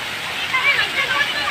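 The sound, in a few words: river water flowing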